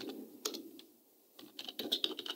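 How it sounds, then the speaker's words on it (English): Computer keyboard keys clatter in quick irregular bursts, close and clear, with a brief pause in the middle before the typing resumes. "So you'll see whatever I'm typing just in a bit"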